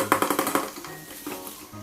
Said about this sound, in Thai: มีการเคาะกระทะเพราะว่าอะไรเพราะว่าข้าวเนี่ยมันติดที่ตะหลิวนะครับ